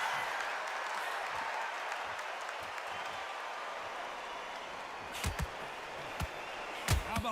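In the arena of the Undisputed boxing video game, a steady wash of crowd cheering and applause fills the space, with a few sharp thuds of punches landing near the end.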